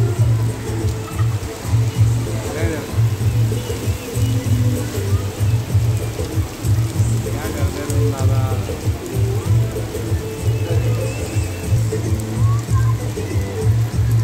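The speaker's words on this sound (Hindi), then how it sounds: "अभी जाके क्या करेंगे बारिश में?" Heavy monsoon rain pouring in Jalgaon, Maharashtra, a dense continuous hiss and patter of drops on surfaces, loud and close, with people chatting faintly underneath.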